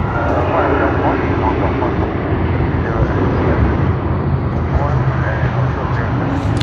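An Emirates aircraft, flight EK412, at Sydney Airport gives a steady, loud engine roar that holds evenly throughout under blustery wind noise.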